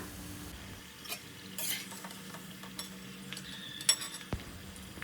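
Gram flour muthiya dumplings frying in hot oil, a soft steady sizzle with occasional stirring clinks of a utensil against the pan, quiet and close, no talking.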